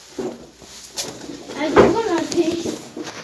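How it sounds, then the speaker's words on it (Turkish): A female tumbler pigeon coos softly nearby in a low, throaty warble, mixed with people talking close by. "bu dişimiz taklacı bir güvercin"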